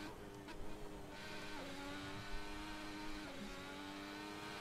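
A racing car engine in Assetto Corsa roars continuously at high revs, its pitch rising and dipping through gear shifts, loud and close with no talking.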